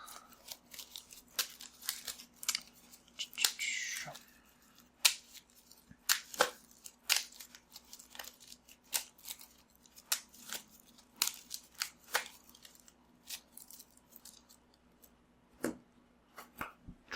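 Magic: The Gathering cards are shuffled close up, giving repeated quick riffling and snapping bursts with brief pauses between them, no talk.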